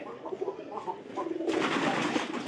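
Young pigeons coo softly in a few low, rounded phrases close by, followed by a louder broadband rustle or hiss that masks them.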